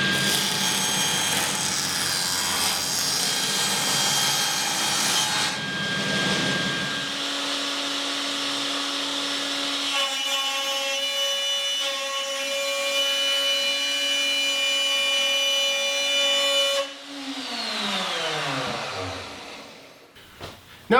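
A saw grinds steadily through a wooden board for a long stretch, then the tone drops and winds down as the cut finishes.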